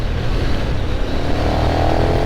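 A KTM 1290 Super Duke R motorcycle engine runs loud and steady close by, a continuous rough drone that rises slightly in pitch toward the end.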